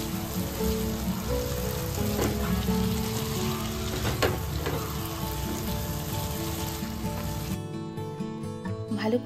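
Ground spices and onion paste fry in a pan with a steady, dense sizzle, joined by occasional scraping stir strokes; the sizzle is loud and continuous until it thins near the end.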